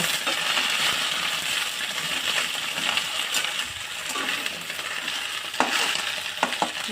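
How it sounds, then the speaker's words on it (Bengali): Kharkol leaves fry in a pan with a steady broadband sizzle that holds throughout, with a few sharp clinks and stirring scrapes breaking through near the end. "ভালো করে এগুলোকে ভেজে নেব"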